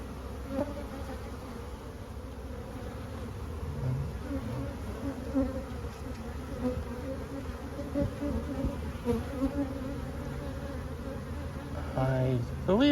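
Honey bees at a swarming hive make a dense, continuous buzz that holds steady throughout, with individual bees droning close by now and then.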